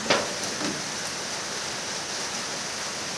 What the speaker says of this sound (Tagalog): Umuulan ngayon. At araw-araw na itong umuulan.